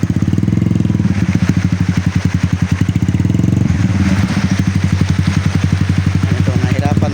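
A motorcycle engine putters and idles up close on a storm-damaged road after a typhoon in Lanuza, Surigao del Sur. Its steady mid-pitched throb dips and changes as it rides slowly, with some clatter.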